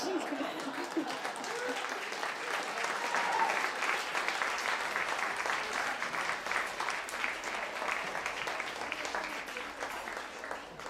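Sustained applause from a live audience at an evening speakeasy storytelling show, a broad steady patter of many hands that swells slightly midway and carries on evenly to the end.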